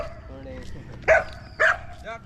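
A dog barks twice in sharp, loud yips about half a second apart, followed by a softer third yelp. The barks sit close by over outdoor background noise, and voices talk in the background.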